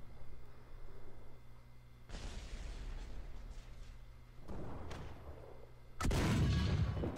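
A Jagdtiger tank gun in War Thunder ground battles fires several heavy booming shots, each a sudden loud blast with a rumbling tail, the last one closest and strongest.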